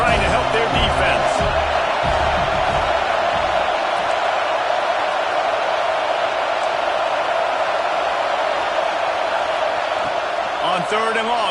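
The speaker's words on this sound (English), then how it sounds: "Listen to this crowd just shaking the girders of this place, trying to help their defense." A football stadium crowd roars loudly and steadily in support of the defense, a dense sustained wall of cheering that fills the whole stretch, with brief talk at the start.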